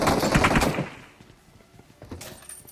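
Gunfire in a battle royale video game, a rapid burst of automatic shots up close that cuts off, followed by quieter scattered distant pops and clatter.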